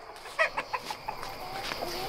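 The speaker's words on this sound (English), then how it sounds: "Over here, the adult chicks now are settling in for bed." Chickens give a run of soft, short clucks close by as they settle into their coop for the night, followed by quieter murmuring.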